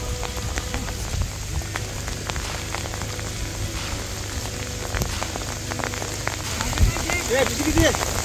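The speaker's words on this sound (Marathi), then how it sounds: "धुमडेश्वर म्हणजे भरपूर तीव्र पाऊस" Heavy monsoon rain pours over flooded rice paddies at planting time, a dense continuous patter of drops hitting water and surfaces all around, with faint voices in the background.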